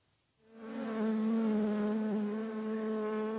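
Bees buzz in a steady, droning hum that swells in after a brief quiet and stays close and loud throughout.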